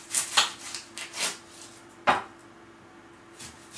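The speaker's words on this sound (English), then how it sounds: "we chop the onion" An onion is chopped on a board with a knife, making sharp, irregular taps close by, with short pauses between strokes.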